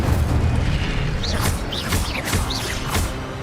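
The Incendio fire spell is cast repeatedly in the Hogwarts Legacy video game, a dense run of about four booming bursts with whooshing, rising magical tones over a steady rumble of game noise.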